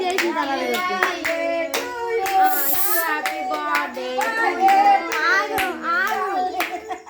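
Several people clap steadily in rhythm at a home birthday celebration while voices, including children, sing along over the beat for several seconds.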